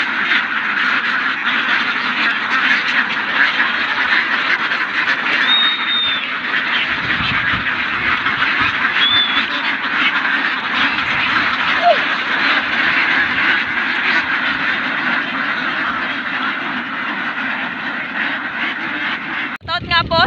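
Many ducks quack steadily and continuously on a duck farm, a dense overlapping chorus with occasional louder calls, and a brief thump near the end.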